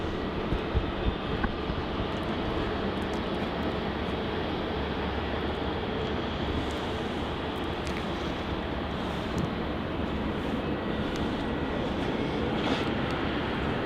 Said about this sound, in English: We do have a runway 27 departure by the looks of it. Yes, we do. It's going to be Virgin Australia Flight 845 operating in Milk Run to Sydney, Boeing 737-800